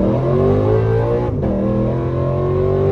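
A tuned Lexus RC F engine drones loudly from inside the car, its pitch climbing, dipping briefly at a gear shift and then rising again.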